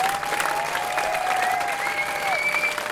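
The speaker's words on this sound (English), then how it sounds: "Please extend your applause to get the band back out for this final one." A concert audience claps and cheers steadily as the band is called back to the stage, dense continuous applause with a few whistles, fairly close and loud.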